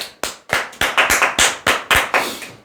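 Loud, close hand clapping in a quick, slightly uneven series of about ten sharp claps from a small group at a talk about insurance telemarketing work, each clap ringing out briefly before the next.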